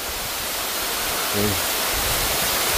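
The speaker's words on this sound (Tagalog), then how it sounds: "Ito, mas mataas ito na falls kaysa sa kabila" Waterfall pouring steadily in a jungle setting, a tall falls with moderate water flow, heard as a constant broadband rush throughout with a brief low hum midway.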